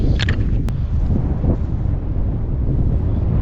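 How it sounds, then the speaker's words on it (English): Wind buffets the microphone in a steady, loud low rumble on an exposed hilltop at the top of an old mine incline in the Lake District, with a couple of brief higher gusty flutters near the start. "Sorry about the wind."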